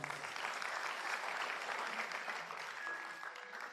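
Crowd applause at an Indonesian motivational seminar, a faint, continuous wash of many hands clapping, even and unbroken for a few seconds as if heard from a distance.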